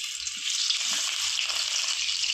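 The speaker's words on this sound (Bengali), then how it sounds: "তারপর আমি শুকনো লঙ্কা, রসুন সব একবারে দিয়ে টেলে নেব" Dried chillies and garlic fry together in hot oil for a Bengali kharkon bata, giving a steady, dense sizzle that holds evenly throughout with no voices.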